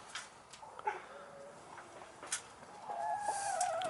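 Backyard chickens, including a lavender Buff Orpington, cluck and murmur faintly nearby, with scattered short calls, then a louder drawn-out cluck near the end over quiet outdoor background.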